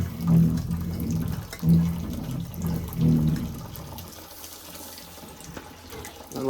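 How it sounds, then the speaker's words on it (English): Water draining out of an opened household furnace boiler, a steady close rush and gurgle that surges a few times and then eases to a quieter trickle. "Just open up the boiler, drain it out for a hot minute."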